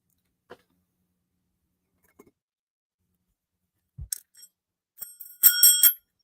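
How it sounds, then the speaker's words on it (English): A bicycle bell rings in a quick burst of bright metallic dings near the end, after a few faint scattered sounds and a short thump. "I got a bicycle bell I bought."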